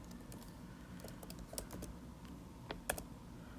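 Quick, light keystrokes on a computer keyboard tap out an equation in the Desmos graphing calculator, irregular clicks at close range with a sharper key press near the end, no voices.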